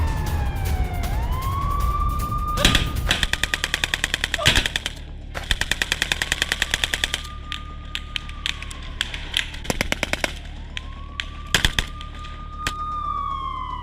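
Automatic gunfire from a Hamas fighter firing at Israeli army troops rings out in long rapid bursts and single cracks, loud and close, with wailing siren-like tones rising and falling between the volleys.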